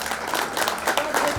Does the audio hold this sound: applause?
yes